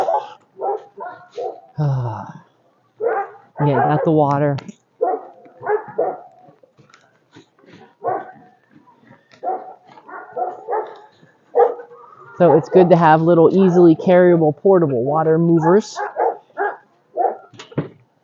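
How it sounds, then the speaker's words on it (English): Dogs bark and yip repeatedly nearby in scattered bursts, interspersed with a person talking. "Barky bark, bark, bark, dogs."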